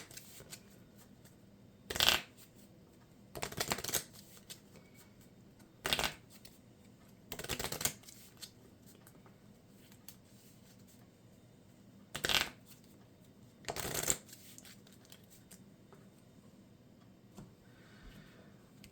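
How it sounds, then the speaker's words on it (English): Cards being shuffled during a game of Marvel Champions, several short riffling bursts spread across the stretch with quiet gaps between them, close and clear without talk. "I'm going to go ahead and shuffle that one of those copies of Frozen Solid back in"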